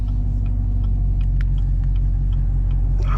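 750 hp Chevrolet Camaro ZL1 cruising on cold backroads, a deep steady engine rumble heard from inside the car with faint ticks and rattles over it.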